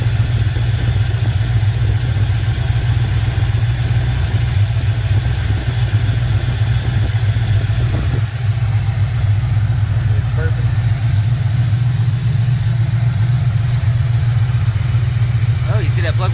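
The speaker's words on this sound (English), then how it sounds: "There's a slight exhaust leak somewhere." A Ford Mustang Foxbody engine idles with a slight exhaust leak, a steady, close, low rumble that runs unbroken throughout.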